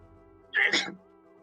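A single short, sharp sneeze bursts out close by, loud against a quiet background hum.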